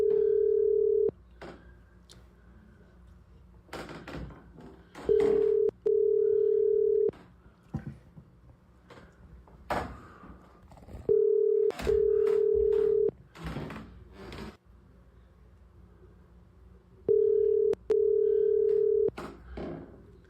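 A telephone ringback tone sounds while a call is placed, clear steady double pulses repeating about every six seconds with shuffling and clicks between rings.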